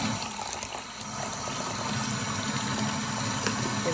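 Hot tap water runs steadily in a kitchen sink as meat is rinsed for birria tacos, a continuous close splashing hiss with no talking.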